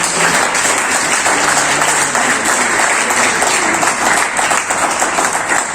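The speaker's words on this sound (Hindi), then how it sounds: "एक बार मैं चाहूंगा इनके लिए जोरदार तालियां होनी चाहिए।" An audience at a herbal health company seminar bursts into loud, sustained applause that fills the room for several seconds without letting up.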